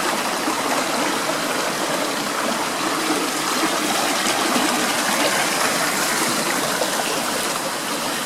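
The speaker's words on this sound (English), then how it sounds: "Look at that water, how clear." Clear stream water in Alabama flowing steadily, a continuous broadband rush and trickle that stays even and fairly close throughout, with no voices over it.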